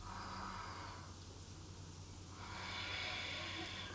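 A long, steady breath drawn in during a yoga flow, a soft broadband rush that swells toward the end, heard close and alone.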